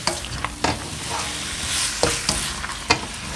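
Shrimp stirred into a hot stir-fry pan sizzle steadily while a utensil scrapes and knocks the pan in several sharp clicks, close and loud with no talk.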